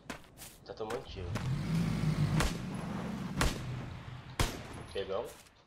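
A car engine hums and drives steadily in the Knives Out battle game, joined by sharp distant gunshots and crackling shots around it, with voices talking over the vehicle noise.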